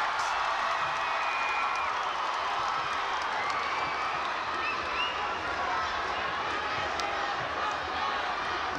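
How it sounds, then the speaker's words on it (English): An arena crowd at a ONE Championship fight between Stamp Fairtex and Asha Roka roars steadily at a takedown, a dense sustained wash of cheering and shouting from a large audience. "The crowd responds to a takedown from Stan Fairtex!"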